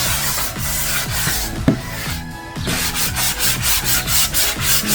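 Steady back-and-forth scraping of sandpaper on a wooden front door, rhythmic strokes close up, with a brief knock partway through and no talking.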